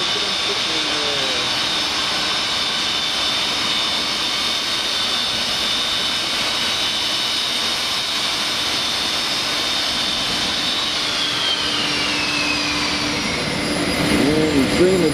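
A Champion Air jet airliner's engine whines and hums steadily at the gate as the jetway is brought up. The sustained, loud tone shifts slightly in pitch, and a voice briefly comes in near the end.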